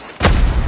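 A frag grenade bursts in a Call of Duty Mobile Search and Rescue ranked match: one sudden, loud, booming blast that rumbles on with a crackling tail.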